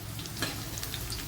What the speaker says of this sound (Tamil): ஃபஸ்ட்டு இஞ்சி, பச்சை மிளகாய், பூண்டு வறுபட்டு வரட்டும்.